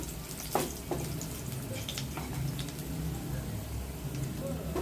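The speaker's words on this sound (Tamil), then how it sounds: "பூண்டு வதங்கி வர வரைக்கும் நம்ம வதக்கவும் பார்க்கலாம் அது வதங்கட்டும்" Garlic sautéing in a pan in a home kitchen for fig curry, giving a steady, soft, close sizzle with a few sharper clicks and scrapes near the start.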